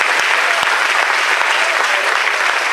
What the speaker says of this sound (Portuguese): Você pode dar uma salva de palmas para Jesus nessa noite?